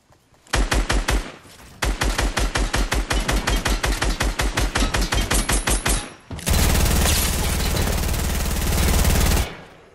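Rapid automatic gunfire in Fortnite Battle Royale, loud and close, with a long string of evenly spaced shots, a brief gap, another burst, then a dense sustained spray of fire before it cuts off.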